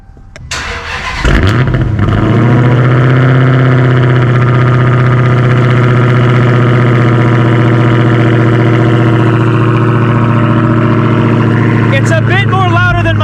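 A Dodge Hellcat engine cold-starts with a sharp cranking catch and loud flare, then settles into a deep, steady, rumbling idle that stays loud and close for the rest of the clip, with a brief voice near the end.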